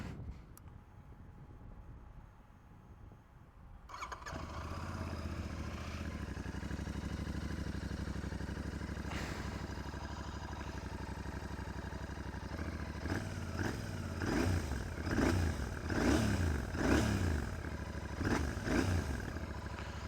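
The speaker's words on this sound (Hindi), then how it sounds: "सो भाई कुछ ऐसा इसका जो है एग्जॉस्ट साउंड है" A Royal Enfield Interceptor 650 motorcycle engine starts up, settles into a steady rumbling exhaust idle, then revs repeatedly in sharp bursts near the microphone, with some wind noise and light drizzle.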